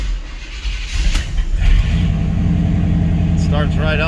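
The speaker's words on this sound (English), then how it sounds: "Starts right up, so the IAC will jump up to give it like that high idle." A Chevrolet S10 engine fitted with Holley Sniper EFI fires up close by and settles into a loud, steady high idle, with someone talking over the running engine.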